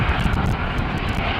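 A Boeing 737-900 jet airliner departs, outbound to Glasgow, its engines giving a loud, close, sustained roar that fills the brief moment with no talk.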